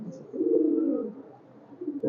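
Red-necked high-flyer pigeons at a Khulna loft give low throaty coos, one long rolling call close by followed by a quieter pause and another coo starting.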